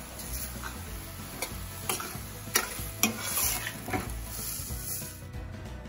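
Vegetables for jambalaya sizzle in a pan under a bright steady hiss, while a spoon stirs them with irregular scraping clicks and taps, close and clear, with no voices.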